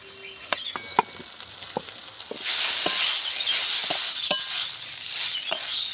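Grated paneer sizzles and crackles in a pan with frying tomatoes as a utensil clinks and scrapes while stirring, with the sizzle growing louder halfway through.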